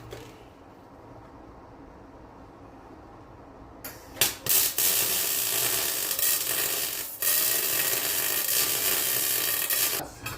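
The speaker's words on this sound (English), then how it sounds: "Okay, let's put some welds on." Welds being laid during fabrication prep: a quiet start, then from about four seconds a loud, steady, broadband crackling hiss that runs to the end with a few brief breaks and pops.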